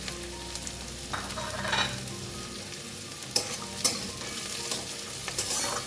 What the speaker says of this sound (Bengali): এভাবে ভেজে নিতে হবে